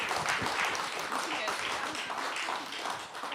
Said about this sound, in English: Another round of applause for Fozia!